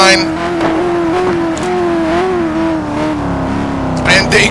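A Corvette GT1 race car engine in a sim racing game at Sebring drones steadily at high revs with a slowly shifting pitch, racing closely alongside another car, running continuously under commentary.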